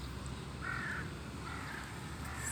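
Crows in a park eating bread give a few faint, distant caws over a steady outdoor background hiss.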